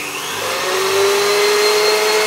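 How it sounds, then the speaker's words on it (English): Electric mixer whisking egg whites at high speed for Italian meringue buttercream, a steady, loud whirring drone with a rising whine that settles into a constant pitch, no voices. "I need to get the egg whites whisking."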